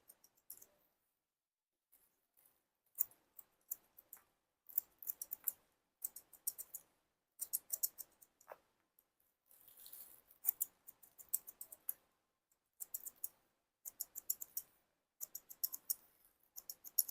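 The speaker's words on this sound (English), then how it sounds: "You can check it with the scissors." Scissors snip hair during a Vanguard haircut, quiet, close, crisp metallic clicks coming in short irregular bursts separated by near silence.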